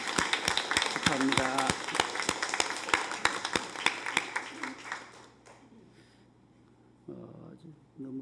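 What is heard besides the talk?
congregation applauding in congratulation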